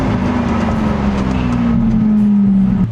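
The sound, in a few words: Lamborghini Aventador engine while driving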